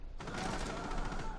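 Rapid gunfire in the video game Rainbow Six Siege, a dense continuous burst of shots lasting just over a second, loud and close.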